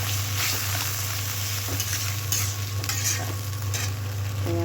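Ginger garlic paste frying with onions in a pan, a steady close sizzle with occasional stirring scrapes and clinks, no talking, a constant low hum underneath.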